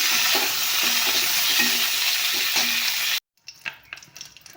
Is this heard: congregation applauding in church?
no